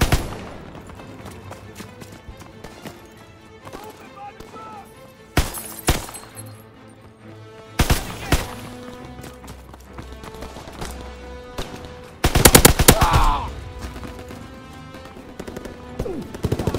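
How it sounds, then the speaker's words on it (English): Fighter aircraft strafing run in Call of Duty WWII: gunfire bursts around the 5, 8 and 12 second marks. The loudest, densest salvo comes near the end, over a steady layer of game effects and music. "Fighter aircraft ready. On for a strafing run."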